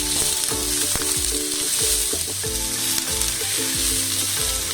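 Loud, constant sizzling of cabbage, carrot and green chilli stir-frying in a pan for nasi goreng, with repeated scraping and knocking of the spatula against the metal throughout.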